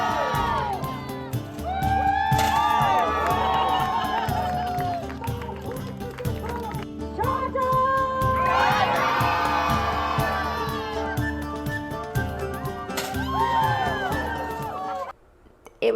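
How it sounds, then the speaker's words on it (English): A lively Renaissance faire crowd yells, whoops and cheers in a sustained wave, loud and close, with excited shouts rising and falling over the full stretch before cutting off near the end. "The energy from the crowd was great, and everybody was like yelling and getting into it."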